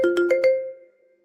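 A phone ringtone sounds close and clear, four quick chiming notes over a sustained tone that fades out within about a second, no voices.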